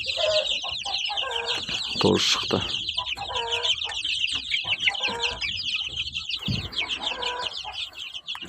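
Domestic chickens cluck in bursts close by, while chicks peep in a constant high-pitched chatter and one short loud squawk cuts through; a voice speaks briefly.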